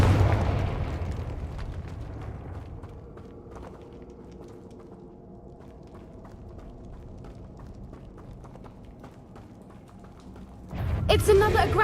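A Confringo blast spell goes off in Hogwarts Legacy, a loud, near, booming burst near the end of a stretch of quieter in-game ambience, with a thumping opening hit as well.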